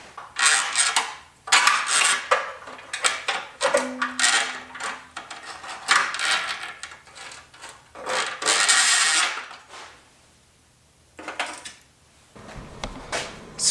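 A claw pickup tool rattling and scraping inside a Mustang's steel car frame while retrieving lost nuts, with metallic clinks, rubbing and scraping bursts, close and loud, broken by brief pauses, with no talking.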